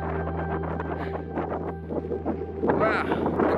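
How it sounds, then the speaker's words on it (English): Strong cold wind buffets the microphone on a high mountain pass in the Dolpo region of Nepal, a steady loud rumble with gusts that swell toward the end. "It's very windy and it's cold."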